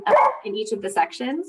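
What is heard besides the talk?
dog barking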